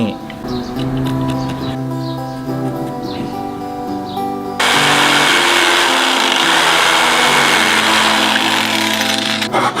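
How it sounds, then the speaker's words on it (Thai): A power drill drones steadily with humming tones, then bites into wood for a guitar speaker cabinet with a louder, harsher grinding whir that continues to the end. "เดี๋ยวผมจะเจาะเจ้าไม้ตัวนี้นะครับ"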